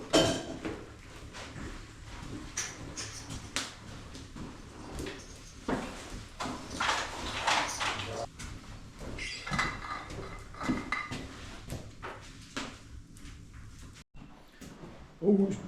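Pots and a kettle clank and rattle at a camp fire cooking site, irregular close metallic knocks and scrapes continuing throughout with no talking.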